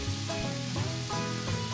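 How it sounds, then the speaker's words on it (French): Beef searing in a pot for Belgian carbonades, a loud continuous sizzle with shifting tonal crackles and stirring, close up and without speech. "On vient ajouter la viande."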